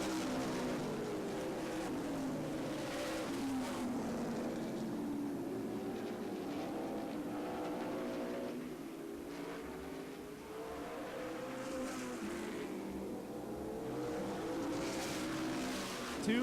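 Race cars at Angola Motorsport Speedway during a 50-lap tuneup roar continuously around the track, a steady distant engine drone that swells and fades as the cars pass.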